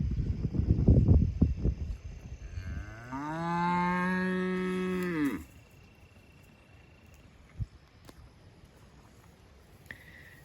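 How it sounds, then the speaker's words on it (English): On a cattle farm, a cow lets out one long, loud moo that holds steady for a couple of seconds before cutting off. Rustling and handling noise come before it, and faint insect buzzing and a few small knocks follow. "But this is the way we raise our cattle."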